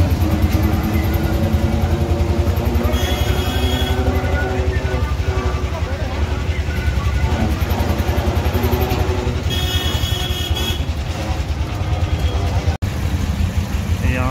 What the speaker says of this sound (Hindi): ट्रैफिक एकदम तगड़ा वाला है